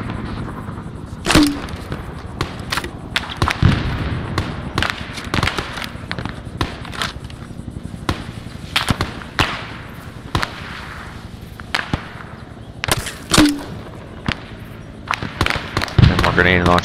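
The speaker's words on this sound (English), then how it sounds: "And more grenade and launcher grenades." Grenades and launcher grenades go off in a battle, a long run of sharp explosive cracks and booms, some close and loud, others distant, at irregular intervals with voices heard in between.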